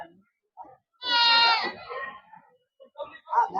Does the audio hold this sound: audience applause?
no